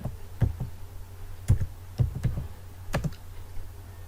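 Close computer keyboard typing of a short disk-partition command, sparse individual key clicks in small irregular clusters with brief pauses, no speech.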